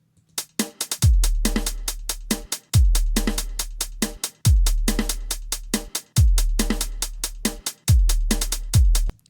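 A programmed drum loop built in LMMS repeats a kick-and-snare pattern with a quick double snare hit, booming low kicks and sharp snappy hits cycling evenly about every two seconds, loud and clean with no voices.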